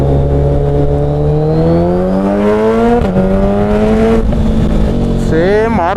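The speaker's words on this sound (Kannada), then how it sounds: "ಇನ್ಲೈನ್ 4 ಕೇಳೋಕ್ಕೆ ಮಜಾ." A 2026 Kawasaki Z900 inline-four motorcycle engine revving loud and close, pitch climbing smoothly then dipping and rising again in sharp blips.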